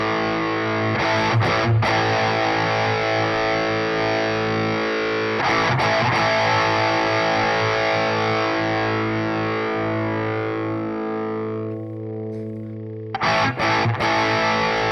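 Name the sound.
guitar through Wampler Brent Mason overdrive/distortion pedal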